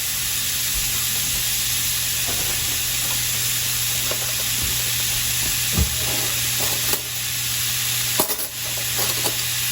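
Garlic and mushrooms stir-fried in a pan for bibimbap give a steady, close sizzle with a hiss of steam, broken by occasional scrapes and clacks of the utensil against the pan.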